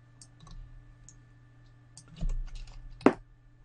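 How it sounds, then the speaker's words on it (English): A few separate clicks of arrow keys on a computer keyboard while nudging a bottle bump map one pixel at a time, quiet and close, with one sharper, louder tap near the end. "Now you can use the up and down arrows on the keyboard, and you can actually nudge them per pixel like that."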